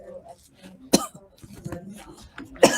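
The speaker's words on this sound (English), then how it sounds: "Cheri's coughing a little bit." A woman coughs in a quilting studio beside a long-arm quilting machine: a sharp cough near the one-second mark and another at the end, with low chatter and handling noise in between.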